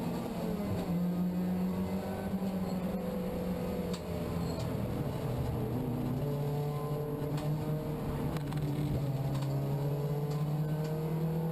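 Puma Cup race cars at the start of a race at Oulton Park, engines droning and rising in pitch as they accelerate toward the first corner, heard at a distance with steady, continuous intensity.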